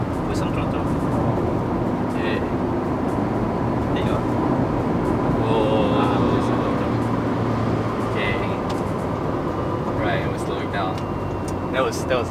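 A facelifted Proton Iriz hatchback with a CVT accelerating hard on the road, a steady loud engine drone and rushing wind and road noise filling the cabin throughout, with talk over it.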